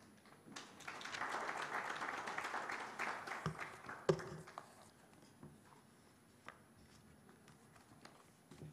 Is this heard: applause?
yes